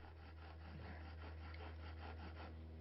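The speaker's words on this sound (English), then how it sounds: "getting the bow drill going, just with a couple of sticks and a shoelace" Steady, rhythmic rasping of a bow drill, sticks strung with a shoelace, rubbing wood against wood to make fire, repeated back-and-forth strokes close up with a low continuous hum underneath.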